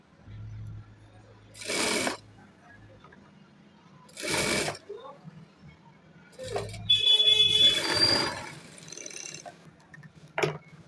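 A household sewing machine runs in short bursts while stitching the sleeve of a katori blouse, each run a steady mechanical whir separated by pauses, with someone talking between the bursts.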